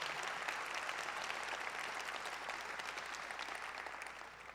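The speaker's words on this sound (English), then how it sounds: "I wonder if you might give him a big round of applause for all the great work that he's done" Steady, dense applause from an audience at an agency's annual state-of-the-agency address, sustained for several seconds at even loudness and fading slightly toward the end, with no voices over it.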